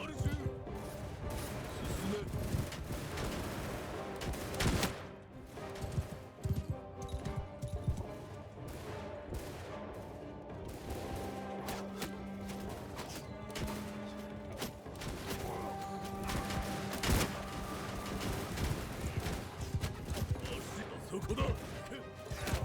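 In the samurai strategy game Shokuho, European musket gunners let off scattered volleys of crackling shots and crashes across a long battle din, with someone talking over much of it.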